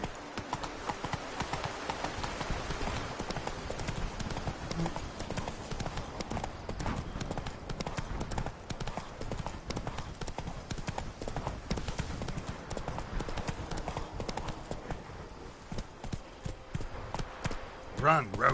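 In The Witcher 3, a horse's hooves pound in a steady, fast galloping clip-clop that keeps going throughout, with a voice speaking over the hoofbeats.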